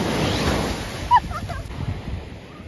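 Ocean surf washing onto a beach in Portugal, a steady broad roar of breaking waves with gusts of wind buffeting the microphone and a brief faint voice partway through.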